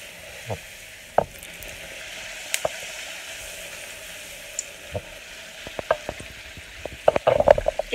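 Kachori deep-frying in hot oil for an Uttar Pradesh-style recipe, a steady close sizzle with scattered pops and crackles that grow busier toward the end, no talking.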